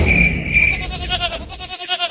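A cartoon goat bleats loudly in a comic Hindi cartoon, with wavering high-pitched cries repeated through the short moment and no talk over it.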